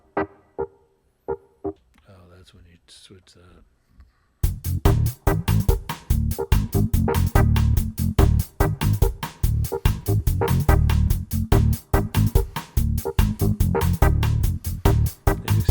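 Drum and bass tracks playing back together in music software, a steady rhythmic beat with punchy low-end hits after a brief quiet stretch where a voice talks.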